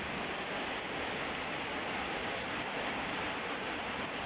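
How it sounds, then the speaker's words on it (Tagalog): Heavy rain pouring steadily on a rural farm, a loud unbroken hiss with no distinct drops or voices. "Lakas talaga ng ulan, no?"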